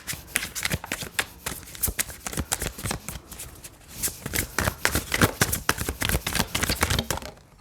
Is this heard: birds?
no